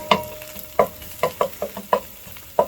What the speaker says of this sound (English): I'm just gonna stir up the egg here with the onion